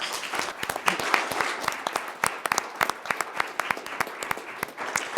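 An audience at a school board meeting claps, with sharp individual claps that come irregularly and thin out toward the end, heard close and loud.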